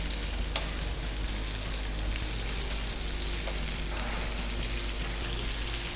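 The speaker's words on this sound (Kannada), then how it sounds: "ಸ್ವಲ್ಪ ಫ್ರೈ ಆಗಬೇಕು" Food frying in a pan while cheese balls and garlic butter chicken are cooked, a steady, close, dense sizzle and crackle running throughout with no talk.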